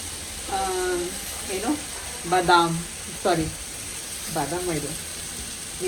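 Frying in a pan with cashews added, a soft steady sizzle running under a voice speaking through most of the clip at moderate loudness.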